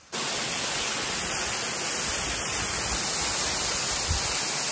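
A waterfall near the Big Four Ice Caves in Washington roars as a dense, steady wash of rushing water close by, starting abruptly and holding constant with no breaks or voices.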